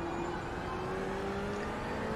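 Ferrari GTE race car in iRacing, its engine holding a steady, sustained tone at an even pitch, loud and alone without talk.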